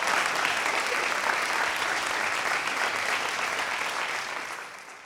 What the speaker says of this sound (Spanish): Me gusta porque aplauden, pero con culpa.